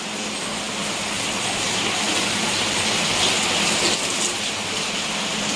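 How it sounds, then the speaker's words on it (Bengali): Heavy rain pours steadily outside a house with the windows and doors shut, a dense, even roar with no breaks and no voices. "এত জোর বৃষ্টি আসলে তখন জানলা দরজা খুলে রাখা যায় না"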